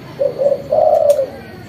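A spotted dove (tekukur), a caged bird, gives a soft cooing call in two low, smooth phrases, the second longer, close by and alone against quiet background noise.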